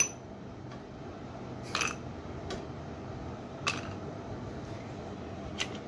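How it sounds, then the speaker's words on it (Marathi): Ice cubes dropping into a glass of watermelon punch made with lemon juice: four sharp, separate clinks over a quiet background hiss. "बर्फाचे काही तुकडे"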